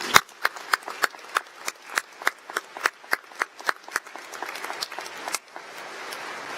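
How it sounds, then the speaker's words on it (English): An audience at a college commencement claps in a slow, even rhythm of sharp, separate claps. These settle into softer, scattered applause toward the end. No talk is heard over the clapping. "Let's give them a round of applause."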